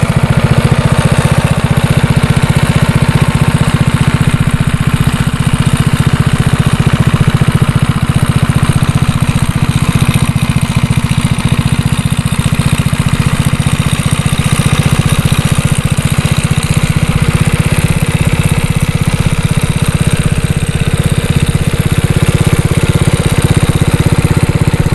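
A Murray Track 2 minibike's 6.5 hp small engine runs steadily at a constant, throaty idle, its exhaust droning loudly and evenly throughout with no voices.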